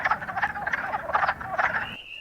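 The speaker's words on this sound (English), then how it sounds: "That's the wood frogs. And she's so right. They totally sound like chickens." Wood frogs call in a rapid chorus of clucking, chicken-like croaks, repeated in bursts of quacking notes at fairly close range before cutting off abruptly, with no voices present.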